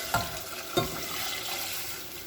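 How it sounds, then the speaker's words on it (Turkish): Water poured onto potatoes roasting in a pot for a Tokat-style meatball stew: two sharp splashes set off a steady, close hiss of sizzling that carries on without any talking. "Patatesler de biraz kavrulduktan sonra suyunu ekliyorum."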